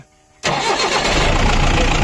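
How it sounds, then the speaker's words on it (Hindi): A Mahindra Bolero engine cranks briefly and catches, going from near silence to a sudden loud start that settles into a steady, rough idle, close to the listener. "अब आपको गाड़ी को स्टार्ट करके दिखाते हैं"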